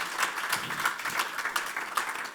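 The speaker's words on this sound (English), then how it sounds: "So can we have one more round of applause?" Brief, fairly faint round of applause from a conference audience at a tech talk, scattered claps with a soft, uneven rhythm lasting a couple of seconds.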